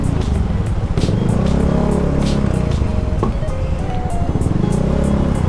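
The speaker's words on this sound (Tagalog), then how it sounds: "Traffic, stress everywhere" Road traffic surrounds a Honda Beat FI scooter fitted with an Apido pipe, riding in rain. Engines rumble close and continuously, with rhythmic vehicle noise throughout.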